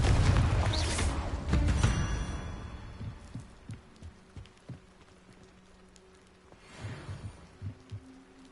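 The Confringo fire spell in Hogwarts Legacy goes off as a heavy, booming blast that rumbles and fades over about two seconds. Quieter game ambience follows with soft thuds and another muffled swell near the end.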